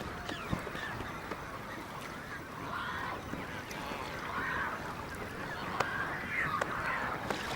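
A large flock of flamingos calls at a shallow lake on a pan in southern Africa, a continuous far-off chorus of honking, goose-like cries rising and falling in waves with no voices over it.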